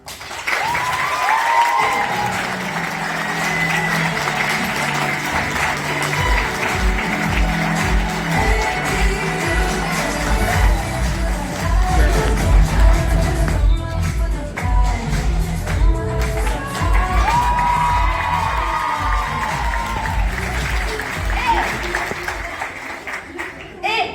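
Audience applause at a school eloquence contest in Viry-Châtillon, a steady wash of many hands clapping that swells and fades over a long stretch, with voices speaking over it at times.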